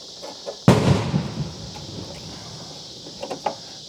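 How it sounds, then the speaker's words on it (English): A single sharp firework bang bursts out loud and close, followed by a fading crackle and echo, with a few faint pops trailing near the end. "Somebody's had some fun with fireworks."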